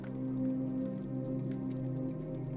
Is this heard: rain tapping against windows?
yes